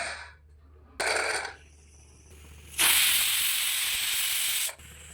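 A pressure cooker cooking mutton lets off bursts of hissing steam, two shorter blasts followed by a long, loud, sustained whistle, with no one talking.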